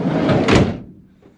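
A door swings open and shut nearby, a broad thudding clatter with a brief peak, then fading to quiet room tone.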